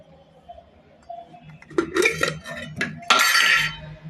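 A metal spoon clinks and scrapes inside a cooking pot holding coconut oil, a few quiet taps first, then two louder bursts of rattling clatter close by.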